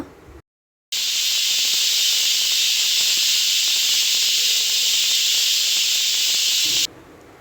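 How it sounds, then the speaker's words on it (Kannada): A pressure cooker cooking dal and greens vents steam through its whistle in a loud, steady hiss that runs unbroken for about six seconds before cutting off, with no one speaking. "ಈಗ ಕುಕ್ಕರ್ ವಿಶಲ್ ಆಗಿದೆ"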